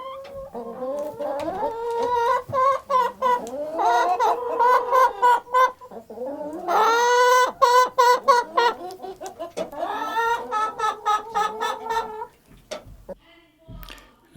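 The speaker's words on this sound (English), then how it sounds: "Here's the chicken." A chicken clucks in a quick run of close, chattering calls that rise into louder squawking bursts, then trail off into a few softer clucks.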